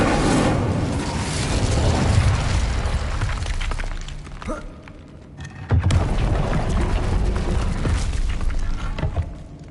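An Incendio fire spell is cast in Hogwarts Legacy, heard as rumbling, crackling bursts of magical flame with a sharp crack near the middle before another roaring burst, loud and close, with game sounds and no talk.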